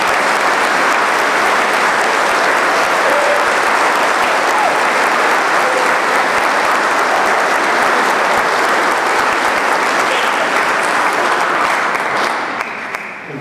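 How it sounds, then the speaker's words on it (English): Loud, sustained applause from a large crowd at a Veterans Day ceremony at City Hall in Leominster, Massachusetts, dense and continuous, tapering slightly at the very end. "I'd just like to offer her one more round of applause."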